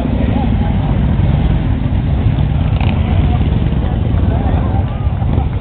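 A crowd of about 3,000 motorcycles gathers at the Ride for the Kids charity ride on a cloudy day, producing a loud, continuous, dense rumble of idling and revving engines close by.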